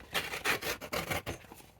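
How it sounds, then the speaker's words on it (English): Paper torn by hand for a handmade junk journal, heard as a quiet, close series of quick rasping rips in short bursts. "I'm gonna go ahead and tear this to make it easier."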